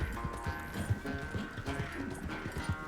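A horse gallops in Red Dead Redemption 2, its rhythmic hoofbeats clopping steadily and close over faint ambient game sound.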